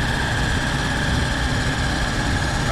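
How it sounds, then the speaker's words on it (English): Large pumping machines running nearby outdoors, a loud, steady low engine drone with a constant hum and no pauses. "Some kind of big pumping machines, I don't know."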